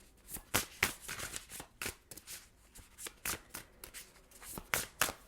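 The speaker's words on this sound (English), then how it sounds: "One more shuffle, please." Tarot cards riffled and shuffled in quick repeated bursts of crisp papery flutter, close and fairly quiet, with no voices.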